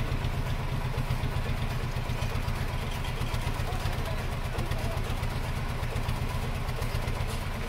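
A 1997 Isuzu Panther 2.5 diesel, freshly overhauled with a serviced injection pump and running without a thermostat, idles steadily during an emission test, its low, even knocking pulse continuing throughout at close range.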